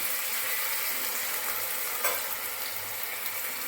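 Potato curry for a vegetarian aloo dum sizzles and fries loudly in a pan after a little water is added, a steady dense hiss with faint stirring scrapes, close and continuous without any talking.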